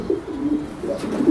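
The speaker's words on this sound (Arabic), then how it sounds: "يعني فرد حمام" A pigeon perched on a rooftop coos in low, throaty repeated calls close by, with a soft rolling rhythm and no talking.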